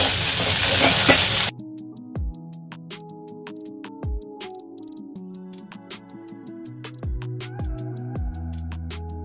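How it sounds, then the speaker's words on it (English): Sardines fry in a pan with a loud, dense sizzle for the first second and a half, then it cuts off abruptly and gives way to quieter tonal sounds with sharp clicks. "Now guys, we are going to fry our sardines"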